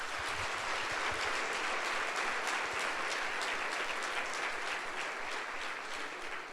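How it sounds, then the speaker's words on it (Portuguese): A congregation applauds for Jesus during a Sunday church service, a steady wash of many hands clapping that fills the room at even loudness for several seconds with no voices over it. "Dê um aplauso aí a Jesus"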